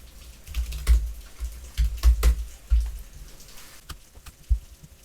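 Command typed on a computer keyboard for a Cisco distribution switch: a sparse, close run of soft key taps and clacks with uneven gaps, heard alone without voices.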